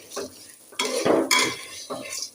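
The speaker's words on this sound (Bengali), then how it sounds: "নেড়ে সেড়ে ভেজে নিচ্ছি" Rice grains being stirred and dry-fried in a pan for biryani, with scraping strokes of a spatula and a light rustling sizzle, coming in a few separate bursts close by.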